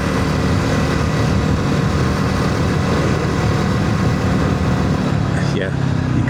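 A BSA Bantam 350 single-cylinder motorcycle engine runs loudly and steadily close by, a dense rumbling drone that lasts throughout, with a voice talking over it.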